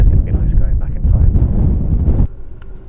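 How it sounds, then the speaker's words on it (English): Strong wind gusting across a mountain at night, loud low rumbling buffeting of the microphone that drops off sharply near the end, leaving a quieter breeze. "You can probably hear the wind blowing."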